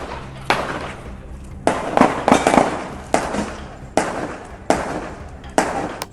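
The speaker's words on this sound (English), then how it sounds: "just got to be careful here with some gunshots." A series of sharp, loud bangs goes off at irregular intervals, each cracking then echoing away, with a cluster of rapid reports in the middle.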